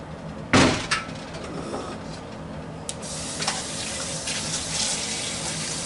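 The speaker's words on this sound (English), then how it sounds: "I'm going to put in about 3 quarts of water" Water pours steadily into a metal pressure canner after a sharp clank, a continuous hollow splashing rush that holds at an even level, close by.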